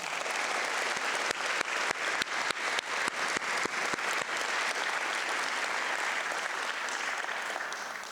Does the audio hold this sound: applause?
yes